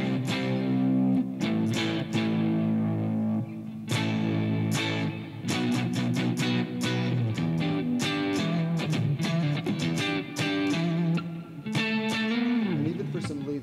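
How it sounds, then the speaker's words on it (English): Electric guitar chords played through a Marshall amplifier system with light distortion, ringing continuously and loudly with a series of strummed changes over about fourteen seconds, no voices. "I'm going to play just some chords here"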